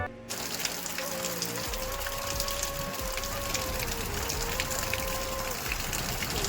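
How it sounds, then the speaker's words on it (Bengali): Steady rain pours down, a dense continuous patter on surfaces with a faint tonal hum running through it and no talking. "তো দেখো এখন বৃষ্টি হচ্ছে"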